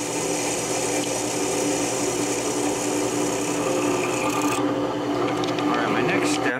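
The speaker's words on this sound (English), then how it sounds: "Remember to keep your drill bit lubricated so you don't" A steady, loud whine of a power drill with a lubricated bit boring into a truss rod, running continuously with a slight change in pitch near the end.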